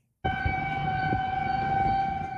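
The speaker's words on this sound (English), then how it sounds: "tornado sirens blared overnight in Rock Valley, Iowa" A loud tornado siren in Rock Valley, Iowa abruptly starts and holds a steady, droning multi-tone wail, continuous and unbroken to the end.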